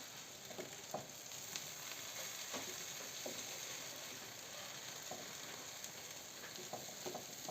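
Onion sandwiches sizzle and crackle steadily in a frying pan, a continuous close frying hiss with small pops scattered throughout and no talking.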